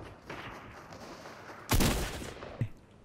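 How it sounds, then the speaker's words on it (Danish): Shotgun blasts from the video game Fortnite: a couple of faint shots, then one sharp, loud boom followed by a fainter crack, all without speech. "Jeg sniper ham med min shotgun."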